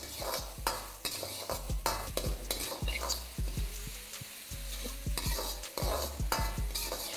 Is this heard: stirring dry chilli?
yes